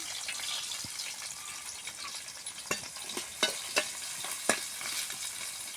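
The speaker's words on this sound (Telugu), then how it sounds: "ఆయిల్ అయితే వేసాను ఆనియన్స్ అయితే వేసేసుకుంటున్నాను" Onions fry in hot oil in a home kitchen, giving a faint, continuous sizzle broken by several sharp pops and spatters, heard close with no talking.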